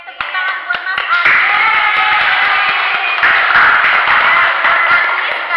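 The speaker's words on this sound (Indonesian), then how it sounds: "Oke, tepuk tangan buat Mas Andi." A small group claps together for a participant during a nursing group-activity therapy role play, a loud, dense patter of hands that swells and holds for several seconds, with voices mixed in underneath.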